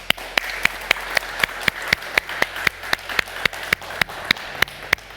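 Studio audience clapping in steady unison rhythm on a Turkish television talk show, a loud, evenly spaced beat of roughly twenty claps with no talking over it.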